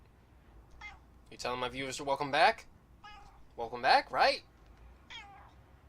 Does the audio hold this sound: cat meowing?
yes